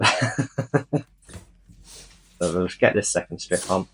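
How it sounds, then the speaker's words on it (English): Dogs bark in the background of a home, several sharp barks in a quick run and then more barks mixed with talk, while a person speaks nearby. "And you'll have to excuse the dogs in the background."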